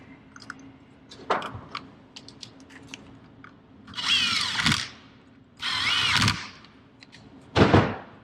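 Bolts being tightened on a 6.0 Powerstroke oil cooler, heard as three loud bursts of a power tool or ratchet of about half a second each, separated by lighter clicks and handling noises, with no talk.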